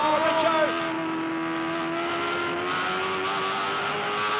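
V8 Supercars race cars at the 2008 Bathurst 1000 motor race, engines droning steadily at high revs as they run close together, with a commentator's voice talking over the engine noise throughout.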